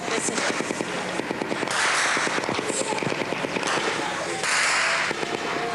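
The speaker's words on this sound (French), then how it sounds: "Les gangsters tirent en l'air pour marquer leur territoire, puis ils visent les casques bleus de la MINUSTA, qui répliquent à la mitrailleuse lourde" Gang gunfire in Haiti answered by peacekeepers' heavy machine gun, with rapid, continuous bursts of cracking shots, some close and loud, others distant, running throughout amid noisy outdoor ambience and a voice speaking.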